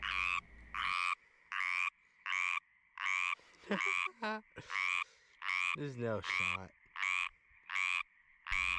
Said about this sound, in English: Is this frog even real?